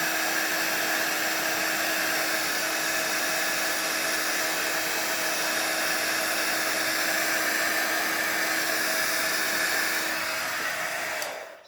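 A heat gun blows hot air while melting clear embossing powder on a card, a steady close whining hum with a constant tone that runs unbroken and then cuts off abruptly near the end.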